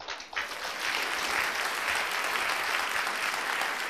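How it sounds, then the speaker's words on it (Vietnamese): Applause from an audience at a Buddhist dharma talk, starting abruptly and swelling into steady, dense clapping that continues throughout. "Cảm ơn tràng pháo tay, bởi vì chưa hiểu câu gì sau đó mà đã vỗ tay rồi."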